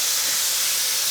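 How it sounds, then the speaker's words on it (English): Loud, steady sizzling of chicken frying in a hot pan, a bright continuous crackling hiss close up. "that sizzle tells me I'm closer to that point"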